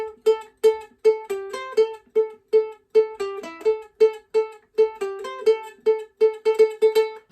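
Ukulele playing the opening section of a theme, a steady run of repeated plucked notes broken by quick melodic flourishes, close and solo without talk.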